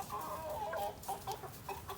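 Hens cluck and murmur continuously in a steady, busy chatter, fairly close, with soft repeated calls overlapping throughout.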